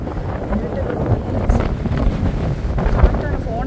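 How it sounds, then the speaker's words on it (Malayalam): Strong wind buffets a phone microphone in the hills around Marayoor near Munnar, a continuous rough low rumble with gusty surges from start to finish. "കാറ്റാണ്. ഫോണൊക്കെ പറത്തിക്കൊണ്ട് കാറ്റ്."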